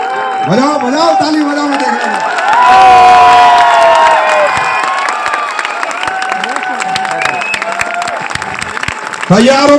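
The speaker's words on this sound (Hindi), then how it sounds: "बजाओ बजाओ, ताली बजाओ, मैं देख रहा हूं।" A packed hall at a business seminar claps and cheers loudly and continuously, the applause swelling to a peak midway and staying steady afterward, with a voice audible over the crowd.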